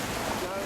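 A boat speeds up through the wet swamps of the Busanga Plains, its motor a steady broadband roar blended with wind buffeting the microphone and water rushing past, loud and continuous throughout.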